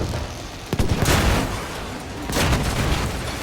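Explosions and gunfire from the video game Battlefield 5, a dense wash of battle noise with a sharp burst cluster near the start and a second swell of rumbling blasts later, steady and loud throughout.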